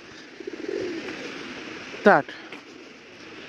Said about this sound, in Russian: Дерево с птицами. О, они еще на этом сидят.